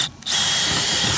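A power drill bores straight through wood while building a DIY garage gym, a loud steady whine starting after a short pause and running continuously to the end.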